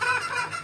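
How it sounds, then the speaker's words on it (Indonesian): A short burst of bird calling, a harsh fowl-like crow with a nasal, honking tone, fairly close and alone. "Ayam hutan hijau."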